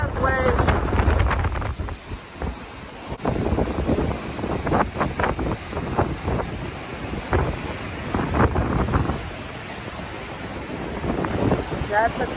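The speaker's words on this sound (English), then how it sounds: "Oh, look at the waves, so" Giant ocean waves surge and crash below Jennette's Pier at Nags Head, a loud, continuous roar of surf mixed with heavy wind buffeting the microphone, with occasional voices talking over it.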